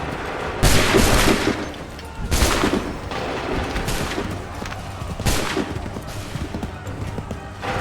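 A volley of musket gunfire in Assassin's Creed 3, with loud massed discharges that crack out together three times at steady intervals, each followed by a rumbling tail and a low background din of battle.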